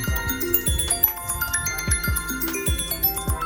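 The top speaker of a black 9.7-inch iPad Pro plays music with sharp bass thumps every half second or so under sparkling high chimes, clear and continuous.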